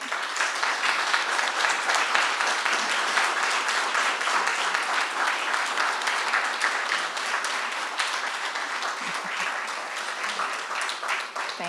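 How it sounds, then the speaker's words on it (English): Sustained clapping from the audience at a town selectboard candidates forum, many hands beating steadily for several seconds before thinning slightly toward the end. "And we can give a round of applause now."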